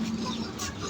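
A hen in a chicken coop gives soft, brief clucks close by, set against a constant background hum.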